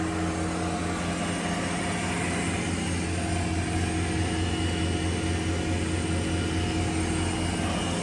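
A Tormach PCNC 1100 CNC mill spindle running steadily at its maximum of 5140 RPM, a constant loud tonal hum and whir with no change throughout.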